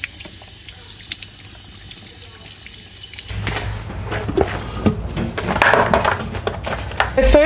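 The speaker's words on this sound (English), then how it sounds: "And that is why we sieve our slip." Ceramic clay slip pours and trickles through a sieve for casting vintage molds. The soft liquid splashing grows busier in the second half, heard close by under low background noise.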